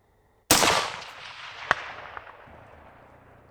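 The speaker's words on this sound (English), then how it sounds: "those 75 grain bullets are smacking that steel. Those are some loud thuds" A 75-grain rifle bullet striking a steel target at long range during night shooting: one abrupt loud report with a rolling, fading echo, then a fainter sharp thud-like impact about a second later.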